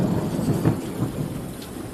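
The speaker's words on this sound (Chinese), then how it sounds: "那几个冰雹打得我脑袋疼，脑袋重的。" A hailstorm with thunder and rain: low rumbling thunder rolls under a dense, steady patter of falling rain and ice, continuous and fairly loud.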